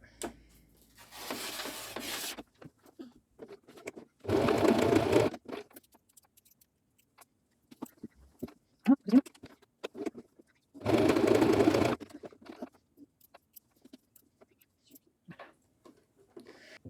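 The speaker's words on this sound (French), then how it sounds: "Et on va coudre les épaules." Sewing machine stitching the shoulder seams of a fleece sleeping bag, three loud steady whirring runs of a second or so each, separated by quiet handling rustles and clicks.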